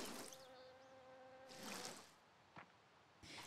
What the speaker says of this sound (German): Wie kann eigentlich der Bienenstock so summen, wenn die Arbeiterbienen alle weg sind?